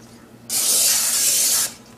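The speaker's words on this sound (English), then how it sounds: "We start by taking a 9 by 9 inch square pan and spraying it with Pam." A single steady hiss of aerosol cooking spray onto a 9-inch square pan lasts about a second, close and loud, starting and stopping abruptly.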